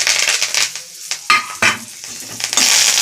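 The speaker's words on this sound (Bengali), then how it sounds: "দুটো কারি পাতা নিয়েছি ভেজে নেবো" Curry leaves crackle and sizzle sharply in hot oil in a wok while flattened rice is being fried, with bursts of spattering and a few stirring scrapes, close and loud.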